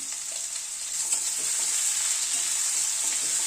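Small new winter potatoes fry in oil with a little turmeric, giving a steady, close sizzle that grows slightly louder, with soft stirring scrapes and no talk.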